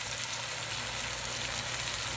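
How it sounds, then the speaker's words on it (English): Vegetables sauteing in a pan for turkey pot pie give a steady, soft sizzle and crackle, even and continuous, heard alone and close. "So now I'm sauteing my vegetables."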